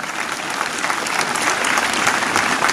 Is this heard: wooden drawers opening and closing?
no